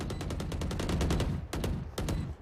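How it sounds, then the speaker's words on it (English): The Odin machine gun in the game Valorant fires a loud, continuous rapid burst, followed by two shorter bursts after brief gaps, with no talk over it. "The Odin cannon does have a very nice spray, so even if they double peek, he might have a slight chance here."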